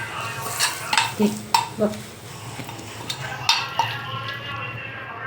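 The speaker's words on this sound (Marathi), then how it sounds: "वेज मसाला आणि हळद हे सगळं एकत्र करून घ्यायचं" Spoon stirring veg masala and turmeric into samosa filling in a pan, with scraping clinks against the metal and a low sizzle underneath, close and moderately loud; a voice speaks briefly.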